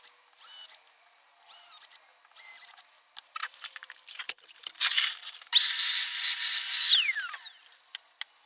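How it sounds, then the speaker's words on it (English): A small drill bores holes in a Z scale model train box diorama, with scattered light whirring bursts and handling clicks that build to a sustained high whine and then wind down. "Okay, so that's all the holes drilled."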